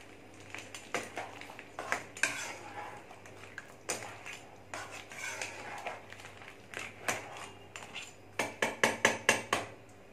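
A spoon stirs coconut crab curry in a metal pot, giving repeated close metallic clinks and scrapes in an irregular rhythm that turn quicker and louder near the end, with no talking.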